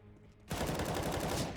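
Rapid automatic gunfire from the video game Counter-Strike bursts in after a quiet moment, a dense, loud rattle of repeated shots lasting about a second.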